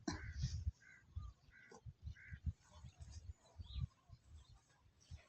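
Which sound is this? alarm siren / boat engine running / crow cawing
crow cawing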